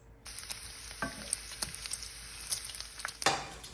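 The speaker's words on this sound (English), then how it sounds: "we're gonna get this sizzling, get this cooked so it's nice and crisp" Bacon sizzling and crackling as it fries crisp in a pan, a steady hiss broken by sharp pops and the occasional scrape of stirring.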